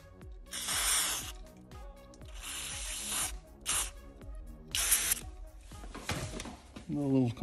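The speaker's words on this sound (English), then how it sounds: "A little compressor." A small air compressor blows air through the carburetor jets of a 1985 Honda XL250R, giving short repeated bursts of hissing spray separated by pauses. Quieter clicks and handling noises fall between the bursts.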